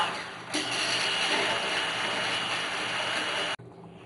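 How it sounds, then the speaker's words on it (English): An electric mixer whips cold cream for a lemon cake, a steady whirring, buzzing drone that runs loud and close for several seconds before cutting off abruptly near the end, with no talk over it. "we whip the cream"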